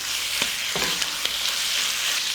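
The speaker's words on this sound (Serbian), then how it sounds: "Dok se džigerica prži" Chicken liver fries in a pan with a dense, steady hiss of sizzling oil, punctuated by a few light scraping stirs, loud and close with no talking.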